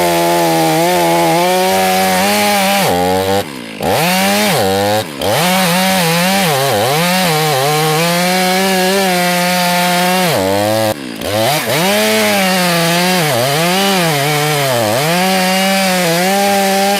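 A chainsaw cuts into a black locust firewood log, its loud engine snarling and dipping in pitch as the chain bites, with brief throttle drops between cuts.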